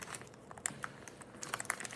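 Plastic snack packaging crinkles close by in quiet, sporadic crackles and small sharp rustles over about two seconds.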